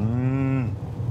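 A person imitating a deep cow moo, mimicking Welsh cattle: a single sustained low, droning call lasting well under a second, close and loud, ending abruptly with no other sounds around it.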